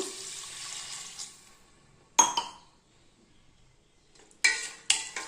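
Water pours into a rice pot with a steady rushing hiss, then stops; sharp metallic clinks of the pot and utensils follow a few seconds apart.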